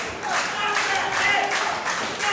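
A wrestling crowd in Houston Premier Arena claps in a dense, sustained wash with rhythmic swells, loud and all around, while a commentator talks over it.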